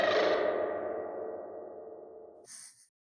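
A dense sound from an audio collage fades slowly into a long reverb tail, then a short, bright, ringing ping swells and dies away into silence.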